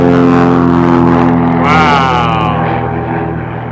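An airplane takes off at an airport, heard as a loud, steady engine drone with a strong harmonic whine that bends and sweeps midway, then gradually fades.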